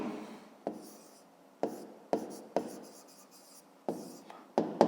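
Chalk or marker writing on a board during a fifth-grade maths lesson, a series of sharp taps and short scratchy strokes close by, fairly quiet with pauses between them.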